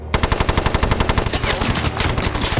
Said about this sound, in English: he orders a Bren gunner to open fire